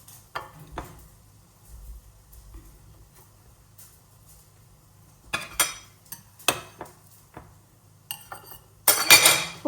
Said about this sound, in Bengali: তো এগুলোকে আমি এখন পিস পিস করে উঠাই ফেলি। হ্যাঁ, একটা প্লেট নিই।